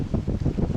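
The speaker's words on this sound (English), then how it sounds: "Very windy." Steady low wind buffeting and rumbling against the microphone outdoors during silage mowing, gusting unevenly throughout with no voices.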